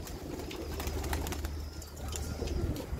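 Pigeon or dove cooing near a coop where a fledgling has been missing for about a week, soft repeated coos over steady low rumbling background noise, with no talking.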